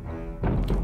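Ballista firing in the game Totally Accurate Battle Simulator, a single deep heavy thunk that is loud and close, cut off within a second.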